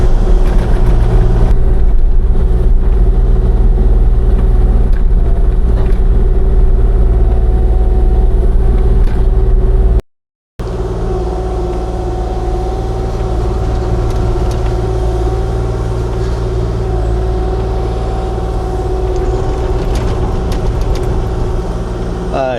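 Engine of a truck being moved along a steep hillside trail, a steady loud running drone with strong low hum throughout, briefly cutting out once midway, with some indistinct voice underneath.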